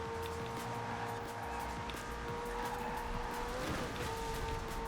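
A McLaren race car screams along in Forza Horizon 4 with a steady, loud engine whine that shifts pitch near the end, constant and close with no talking.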